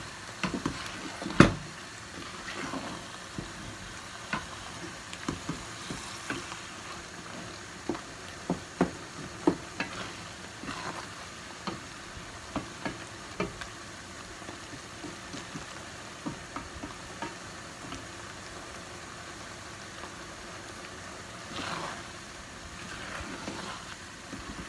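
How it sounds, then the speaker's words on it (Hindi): Keema fried together with chidgaliyan in a pan, a soft continuous sizzle broken by scattered sharp ladle knocks and scrapes against the metal, steady and close for a long stretch with no voices. "चिरंगियाँ भी भुन गई हैं और कीमा भी थोड़ा सा रह गया भुनना"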